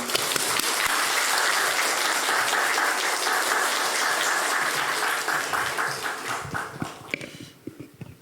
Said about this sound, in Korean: 다시 한번 따뜻한 박수로 환영해 주시기 바랍니다